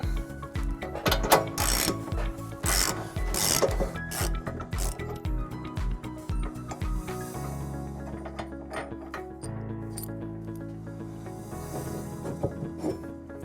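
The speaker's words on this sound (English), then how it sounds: "It's held in by this bolt that we'll remove using a 15/16 socket." A ratchet wrench with a 15/16 socket removing a trailer hitch receiver bolt on a 2018 Tesla Model S clicks in rapid repeated bursts, then turns smoothly with a lower whir and scattered ticks, close up with no talking.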